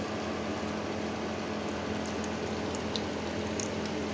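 Fish frying in hot oil over medium heat, a steady dense sizzle and crackle that stays loud and constant throughout with no talking.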